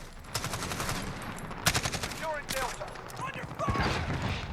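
An AK-12 rifle reload in Call of Duty Modern Warfare: a quick run of loud metallic clicks, clacks and rattling mechanism sounds spread over a few seconds, close and crisp, with no talking.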